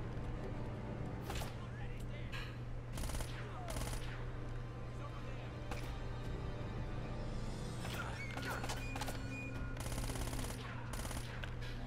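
Gunfire in the video game Uncharted: Drake's Fortune: repeated sharp bursts of shots break out over a steady, droning game soundtrack, clustering more densely near the end.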